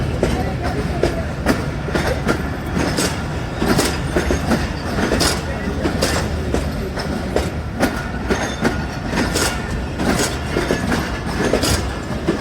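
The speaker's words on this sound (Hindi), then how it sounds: "रेक आप देख लें जो कि तैयार किया गया था अवाम एक्सप्रेस के लिए" Refurbished Awam Express passenger coaches rolling along rails, a steady loud rumble with continuous rhythmic clickety-clack of wheels over rail joints and occasional squeals, heard close and without talk.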